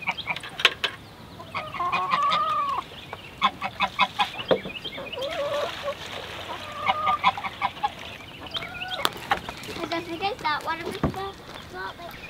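Backyard chickens cluck and squawk near the person keeping them, with scattered honking fowl calls in bursts throughout, under and between frequent talking.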